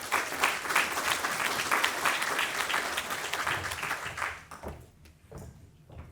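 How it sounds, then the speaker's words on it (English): An audience claps after a speech at an opening event in Galveston: dense, sustained applause that thins out and tapers off near the end. "Let's give Adriana another big round of applause."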